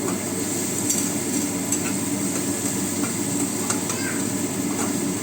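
Onion, garlic and spices sizzling in a pan for a spinach and lentil dish, a soft, steady frying hiss with occasional stirring scrapes, fairly quiet and without talk.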